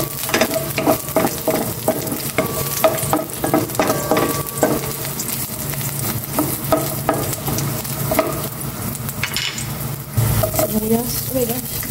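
Garlic fries and sizzles loudly in a pan with constant crackling and repeated stirring scrapes, close by; a brief spoken voice cuts in near the end.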